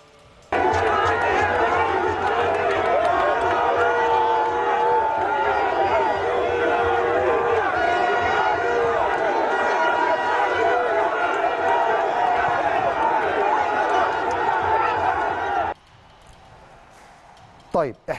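A large crowd of Malian fans welcomes the Mali national football team in Korhogo, on the Ivory Coast border, with loud continuous chatter and cheering. The noise stays dense for about fifteen seconds, then drops away abruptly.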